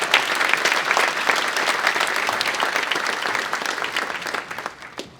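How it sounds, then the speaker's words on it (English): A luncheon audience at a leadership awards event bursts into loud, dense applause that holds steady for several seconds, then thins and fades out at the end. "Let's give them a round of applause, guys."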